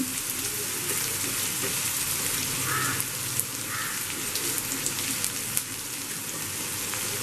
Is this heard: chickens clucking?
no